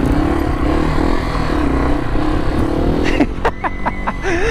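A Yamaha TW200 farm bike rides along with a continuous close engine drone that shifts in pitch, with a brief voice near the end.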